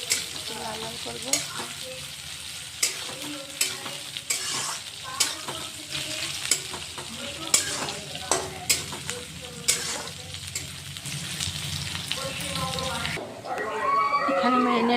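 Chopped onion sizzles in hot oil in a pan while a utensil stirs it, giving repeated sharp scrapes and clinks over a continuous frying hiss, ending in a brief louder burst.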